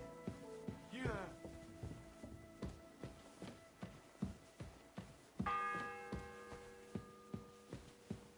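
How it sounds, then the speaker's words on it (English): A single bell tolls loudly and rings out with a long, lingering resonance over a steady rhythmic throbbing and faint voices. "The first bell."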